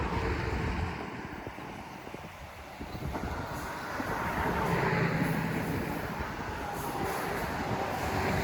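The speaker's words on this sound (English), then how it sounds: "catch the arrival of Montauk Branch train number 17 as it passes through" Long Island Rail Road Montauk Branch diesel train 17 passes through with a moderate continuous rumble of wheels and engine, slightly louder toward the middle, mixed with wind noise on the microphone.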